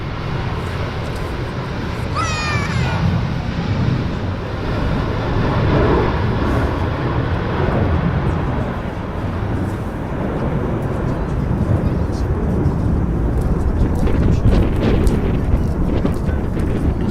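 An aircraft takes off from the runway at Manchester Airport, heard as a broad, steady roar mixed with wind buffeting on the microphone, swelling slightly toward the end.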